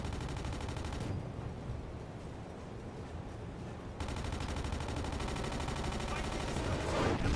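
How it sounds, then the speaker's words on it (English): A missile striking a submarine in a U-boat game set in a 1943 Gambian convoy, heard as sustained rattling blasts and gunfire-like bursts, loud and dense, with a brief quieter lull midway before the barrage resumes. "That was a missile."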